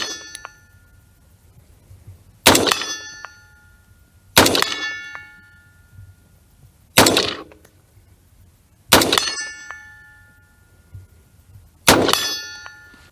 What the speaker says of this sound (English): We're going to shoot at this head from 50 yards and see what happens.